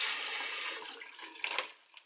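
A tap runs as hairbrushes are held under the water, a steady loud hiss at first that turns uneven and splashy as the stream is broken up.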